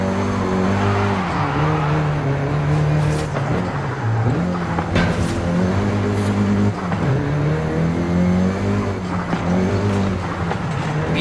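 A Volkswagen Golf GTI driven in the racing game Forza Horizon 5, its engine droning loud and close with rising and falling revs through gear changes and occasional tire squeal, continuous throughout with no talk.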